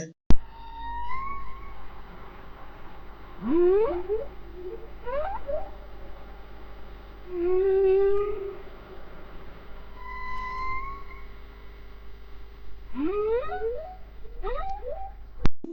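Long, sweeping humpback whale calls rise and fall in pitch, moaning and whooping at intervals over a low underwater rumble, with quiet gaps between.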